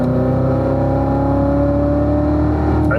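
Race car at Spring Mountain accelerating under throttle, a loud steady engine drone with strong harmonic lines rising slightly in pitch throughout, close and continuous.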